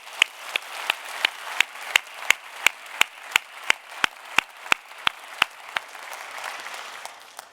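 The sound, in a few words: church congregation applause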